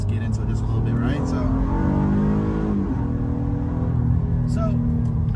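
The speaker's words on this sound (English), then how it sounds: "That Honda growl, that V6 growl that they've had in so many of their vehicles for so many years, that's still there." Honda Passport TrailSport SUV's V6 engine revs steadily and loud throughout, a continuous low growl with rising and falling pitch, close up and alone without talk.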